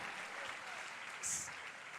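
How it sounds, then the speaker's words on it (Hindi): A church congregation claps together in thanks to the Lord, a steady wash of applause throughout with a voice faintly underneath. "ताली बजा के प्रभु को जोरदार धन्यवाद"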